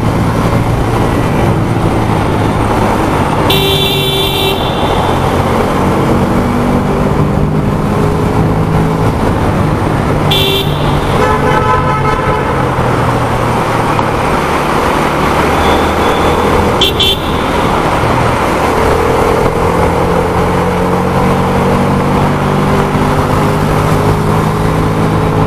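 Steady road traffic surrounds a Bajaj Freedom 125 motorcycle on the move, with a continuous engine drone and passing vehicles, plus several short car horn toots cutting through nearby.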